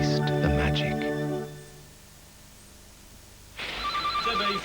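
A telephone rings in a 1988 TV advert, with a ring in the latter part of the clip that follows a few seconds of musical tones and a quiet gap.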